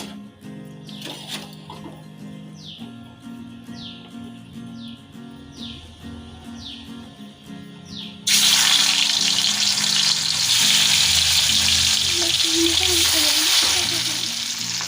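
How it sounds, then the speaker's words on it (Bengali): Pieces of rohu fish hit hot oil in a wok and burst into a loud, sustained sizzle, after a quieter stretch where birds chirp repeatedly in the background. "মাছগুলো ভেজে নেব।"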